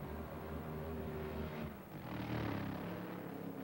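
A Top Fuel dragster engine with its throttle stuck open roars continuously during a crash at the 1995 US Nationals at Indianapolis Raceway Park, giving a loud harmonic drone that dips briefly and then surges back.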